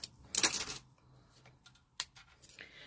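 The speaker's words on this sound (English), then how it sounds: "So right now I'm just trying to get the zipper off of the paper." A zipper is peeled off its paper backing in short, crisp, close bursts of rustling and tearing paper, separated by quiet gaps, with no talking.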